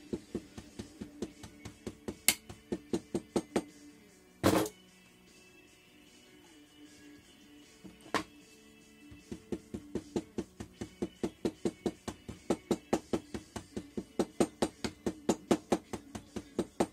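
Light hammer taps packing sand into a casting mold, a fast run of short, evenly spaced knocks with a few brief pauses and one louder thud midway, close and alone.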